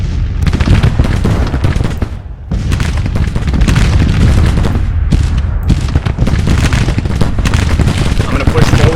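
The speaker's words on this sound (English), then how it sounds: "Nice to see some volleys happening." Musket volleys and artillery thunder across a Civil War battlefield in a video game, dense loud crackling rifle fire and deep booms layered continuously, with one brief lull before the firing resumes.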